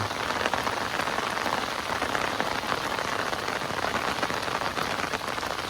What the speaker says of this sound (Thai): ฝนก็ตกก็ฝน